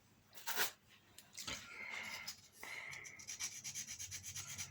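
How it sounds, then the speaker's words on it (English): Sandpaper is rubbed over a small metal tang while building inner overlays for a model truss bridge: a loud scrape, then steady rasping strokes that give way to a quick run of short rhythmic rubs near the end. "Just want to remove that. So a little bit of sandpaper."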